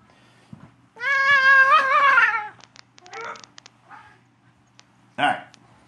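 A house cat meows loudly and close for about a second and a half with a wavering, drawn-out cry, followed by softer rustling, faint clicks and a short sharp squeak near the end.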